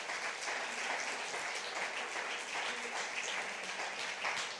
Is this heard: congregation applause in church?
yes